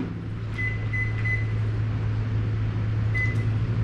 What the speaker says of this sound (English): I'm gonna put it in the microwave for 3 minutes.